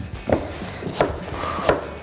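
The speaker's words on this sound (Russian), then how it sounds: "Ее нарезаем произвольно небольшими кусочками." A knife cuts through firm pumpkin with three separate chops on a board, spaced about a second apart, close and moderately loud.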